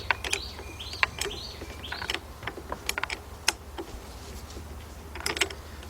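A wrench tightens a cleaned, previously corroded battery terminal on a 2007-2017 Lexus LS460 during starter replacement, giving quick metallic ratcheting clicks and small scrapes in irregular bursts over a low steady hum.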